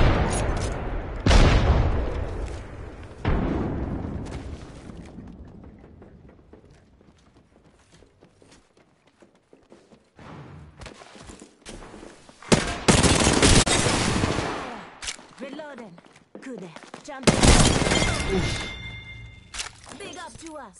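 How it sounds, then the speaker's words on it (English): Gunfire in Apex Legends on PS4 comes in several loud bursts of rapid automatic shots, separated by quieter gaps with footsteps and game noises, and a voice talks over parts of it. "Listen up, I'm getting shot at."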